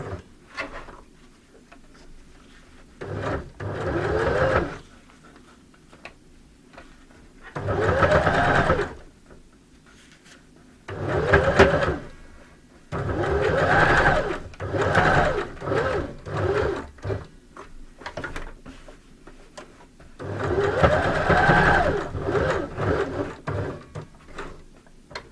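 Sewing machine stitching zigzag seams along a three-layer fabric face mask with a nose wire, running in about six loud bursts separated by short pauses, with no talk.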